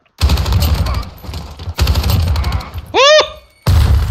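Rapid hip-fire gunshots in Call of Duty Modern Warfare, loud and close, in several dense bursts broken by a short pause and a sweeping electronic chirp.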